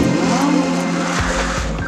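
Lamborghini Gallardo doing an oversteer exercise at Imola circuit, a loud sustained engine note with tire noise and a brief rise in revs, close by.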